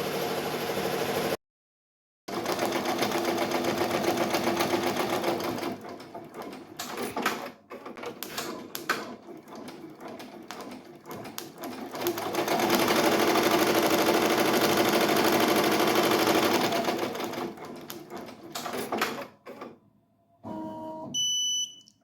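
An embroidery machine stitches a butterfly design onto a hand towel with a steady, rapid mechanical clatter that speeds up and slows down, then stops briefly twice and ends with a few short electronic beeps.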